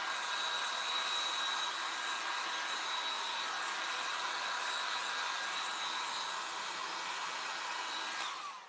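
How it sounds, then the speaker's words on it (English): A hair dryer blows with a loud, steady high-pitched whir for several seconds, then switches off and winds down. "I'll hit it with the hairdryer real quick"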